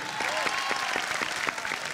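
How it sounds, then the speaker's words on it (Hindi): Studio audience applause during a Hindi antakshari singing reality show on TV, a steady dense wash of clapping with rhythmic hand-clap accents, loud and close throughout. "जोरदार तालियां"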